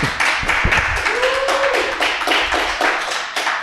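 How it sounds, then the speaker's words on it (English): A studio audience claps in a steady, dense round of applause welcoming a guest to an interview show about innovation and entrepreneurship, loud and sustained without voices. "Let's give him a round of applause."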